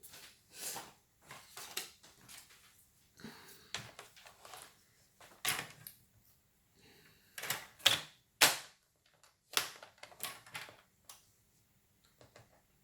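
A massicot paper guillotine cuts paper with sharp, irregular clacks and thumps, each loud snap spaced a second or so apart, close and dry with quiet gaps and no talking.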